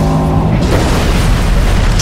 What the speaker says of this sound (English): a huge explosion buckles the hull